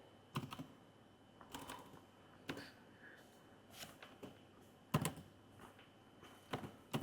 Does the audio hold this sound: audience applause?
no